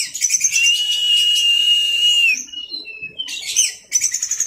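An orange-headed thrush sings a loud, close, continuous run of bright whistled and chirping phrases, pausing briefly before bursting into two more rapid trills.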